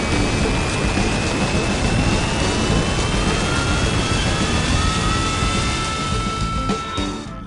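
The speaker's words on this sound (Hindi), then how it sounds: "हवाई जहाज शक्तिशाली ढंग से उड़ान भरता है, ऊंची उड़ान भरता है" A large airplane taking off: a loud, sustained roar of jet engines with rising whine tones filling the whole stretch, easing slightly toward the end.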